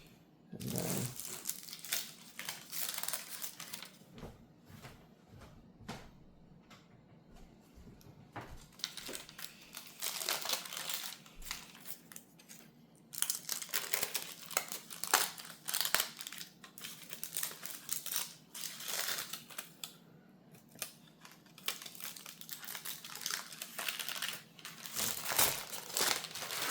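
Crinkly paper liners peeled away from freshly baked sourdough loaves just slid out of their tins, giving close, irregular crackling and rustling bursts that come and go throughout.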